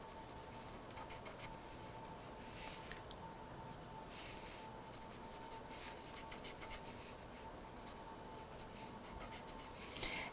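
Pencil shading on paper while drawing a stone castle cityscape, a soft continuous scratchy rubbing with steady strokes, close and quiet throughout.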